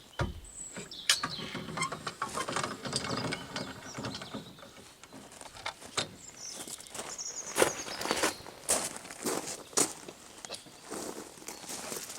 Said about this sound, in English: I need to release the pressure on the winch.